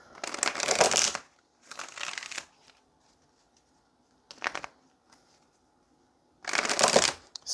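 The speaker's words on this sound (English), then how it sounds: "Let's get a couple of more shuffles" Tarot cards shuffled by hand in four separate bursts, each a close, crisp riffling flutter lasting about half a second to a second, with silent pauses between them.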